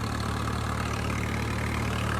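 Tractor engine running steadily in third gear while hauling a fully loaded trolley up an incline, a continuous low rumble with steady vibration, close and unbroken, with no voices.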